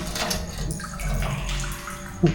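Water inside an abandoned hospital: a steady running, splashing wash of water heard at moderate distance, with a brief louder knock near the end.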